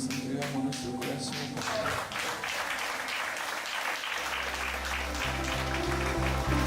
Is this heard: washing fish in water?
no